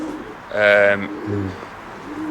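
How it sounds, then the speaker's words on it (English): A racing pigeon cockbird coos close by, one low rolling coo lasting about half a second followed by a shorter deeper note, over a steady room hum. "Super pigeon, mate."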